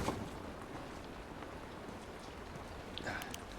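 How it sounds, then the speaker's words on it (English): Steady rain hisses across an outdoor scene in The Last of Us, a soft even wash of falling drops that holds at a constant level from start to finish, with a faint brighter patter near the end. "It's raining."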